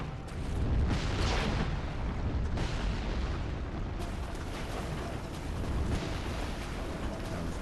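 Heavy booming blasts from a ballista firing in Dark Souls III, a dense rumbling barrage with sharp impacts near 1 s, 2.6 s and 4 s, loud and continuous with no talk.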